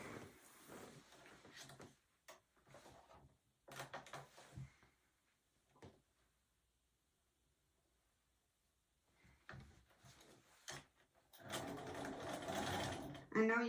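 A domestic sewing machine stitches quilt fabric in short bursts of rapid whirring, followed by a long quiet stretch, then a longer sustained run of stitching near the end. Soft handling noises accompany it, and a person talks faintly.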